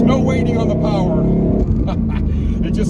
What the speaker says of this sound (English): Listen to that Whipple supercharger and that exhaust go.